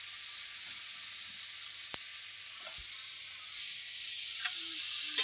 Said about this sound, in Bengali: এইভাবে নেড়ে চেড়ে ভেজে নেবো।